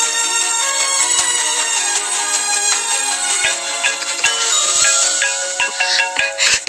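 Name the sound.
telephone ringing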